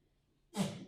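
A single short, sharp sneeze bursts out during a statistics lecture after a moment of near silence, fairly close and moderately loud.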